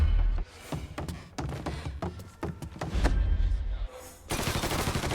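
Mafia III video game gunfire: repeated sharp bursts of shots in quick succession, some rapid and automatic, punctuated by brief pauses and ending in a louder sustained volley.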